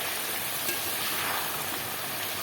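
Pabda fish curry in raw mustard oil gently stirred in a pan, a soft, continuous sizzle with steady low bubbling and no voices.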